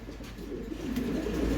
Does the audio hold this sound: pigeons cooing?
yes